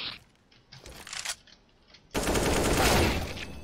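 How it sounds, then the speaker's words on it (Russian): Loud burst of sustained automatic gunfire in a Counter-Strike: Global Offensive Danger Zone match, erupting suddenly after quieter scattered game sounds and continuing densely to the end. "Ух ты, он даже успел мне выстрелить"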